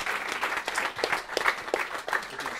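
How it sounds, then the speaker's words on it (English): Applause for a panel at a college event, a moderate crowd clapping unevenly with distinct individual claps standing out, sustained through the short stretch. "But a round of applause for the panel, please."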